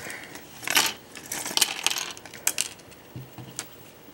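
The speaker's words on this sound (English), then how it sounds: "My little parts bag, little Ziploc bag full of Gundam parts." Plastic Gundam model kit parts rattle and clack inside a Ziploc bag as a hand rummages through them, a series of brief, light clicks and crinkly jingles spread irregularly across a few seconds, fairly quiet and close.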